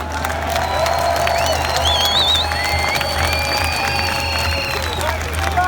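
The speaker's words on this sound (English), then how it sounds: "Let's give a big round of applause to Sandy Anna." Crowd at an outdoor protest in Trafalgar Square clapping and cheering, with whistles and high shouts over a continuous roar of many people, loud and sustained, with voices mixed in.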